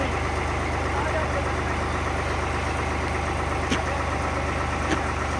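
A steady, low engine idle rumbles continuously throughout, with a faint tick or knock briefly near the end.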